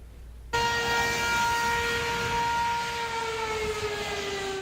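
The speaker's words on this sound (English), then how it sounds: "one thing that really has remained the same for a very long time is outdoor warning sirens" An outdoor tornado warning siren starts abruptly and wails loudly and steadily, a sustained tone with harmonics that slowly drifts lower in pitch, heard alone.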